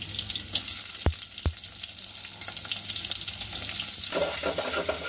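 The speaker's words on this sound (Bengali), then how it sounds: "এখন পেঁয়াজগুলো দিয়ে দিব ভাজার জন্য" Chopped onions frying in hot oil in a pot, a continuous close sizzle with two sharp knocks early on and stirring rustles that swell toward the end, with no talking.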